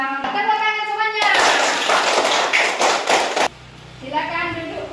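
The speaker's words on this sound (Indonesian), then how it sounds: "Tepuk tangan semuanya." A classroom of children claps hands together in a dense, loud burst of about two seconds, framed by a teacher's voice speaking before and after.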